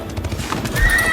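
A horse in the medieval strategy game Age of Empires 4 whinnies and clops its hooves, a short loud burst of neighing over steady hoofbeats.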